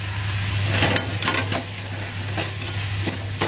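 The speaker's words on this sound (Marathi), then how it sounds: "हलवून घेऊया म्हणजे ती एकजीव होईल." A spoon stirs cooked parwal (pointed gourd) and potato vegetable in a pan with jaggery, giving a steady close scraping and soft sizzling under a low kitchen hum, with no talk.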